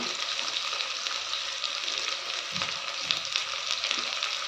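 Cumin seeds sizzling in hot oil, a steady, loud, close frying hiss that holds evenly throughout with faint crackles and no talking.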